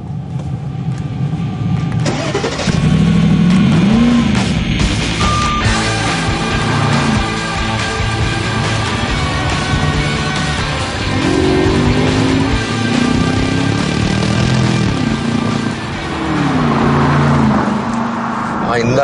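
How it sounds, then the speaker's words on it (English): A supercharged 626-horsepower V8 car pulls away, its deep engine note rising and swelling loud and close, with pitch sweeps as it accelerates, mixed with other sounds. "626 horsepower supercharged V8 lurking under that fabulous long bonnet"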